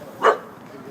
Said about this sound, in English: I'm hearing another bark from over here.